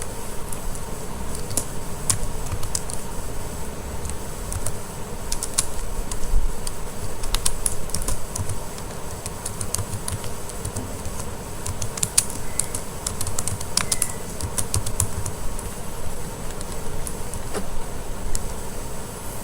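Fingers type on a computer keyboard in continuous light clicking, close and even, over a steady hum with no talk.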